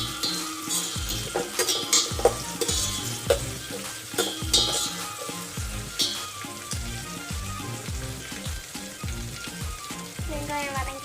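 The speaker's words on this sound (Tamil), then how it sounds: "வெங்காயம் வதங்கியிருக்கு." Onions sautéing in a pan for a vegetable kulambu, with a steady close sizzle broken by frequent rhythmic scrapes and stirs of a utensil against the pan.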